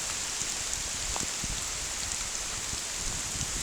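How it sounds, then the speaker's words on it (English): Steady rain falls beneath tree cover on a walk on the Isle of Arran, a constant close hiss with scattered heavier drops tapping through it and no voices. "And that's the amount of rain."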